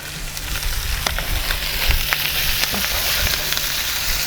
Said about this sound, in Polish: A obok sobie wrzucimy cebulę. Niech ona też już się obsmaża.